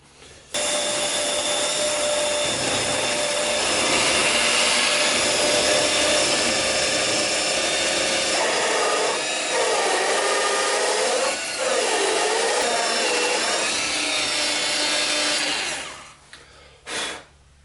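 A drill bores into a 2x2 length of wood, a steady close grinding whine running for about sixteen seconds with a few brief dips in load before it stops. No one speaks.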